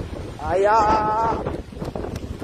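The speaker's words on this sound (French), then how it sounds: "Il y a un vent terrible ici" Strong wind buffets an outdoor microphone with a steady low rumble, while a person speaks and exclaims over it at close range.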